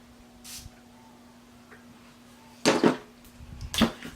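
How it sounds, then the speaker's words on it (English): A spray bottle of coconut water prep mists onto the flat end of a makeup brush from an eyeshadow palette. One faint early spritz is followed later by two short, close hissing bursts, with no talking. "I'm just gonna spray on it."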